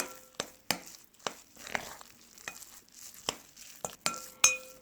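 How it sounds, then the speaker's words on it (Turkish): Cake batter being stirred in a bowl after powdered sugar goes in: a steady series of light clinks and taps from the utensil against the bowl, close, with soft scraping between strikes and no talking. "Karıştırmaya devam ediyoruz."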